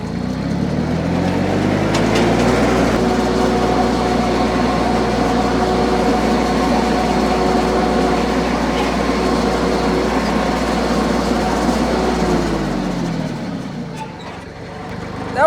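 Compact tractor powering a spinning belt hay rake, a loud steady engine rumble with layered mechanical whirring that holds evenly, then winds down near the end.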